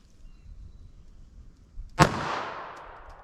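A single loud, sharp report from a Hornady American Gunner .380 ACP round being fired, with a long decaying echo trailing off over about a second against quiet outdoor background.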